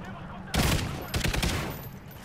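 A sudden loud burst of rapid automatic gunfire in Call of Duty: Ghosts breaks out after a quiet moment and rattles on in close, dense volleys before tapering off.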